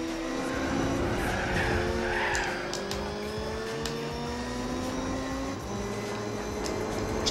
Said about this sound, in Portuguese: Perdi o controle do carro.